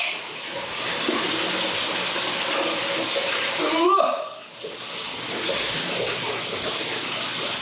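Running water pours steadily into a tray as a platinum print is washed, a continuous splashing flow that briefly dips and resumes, with a voice talking over it.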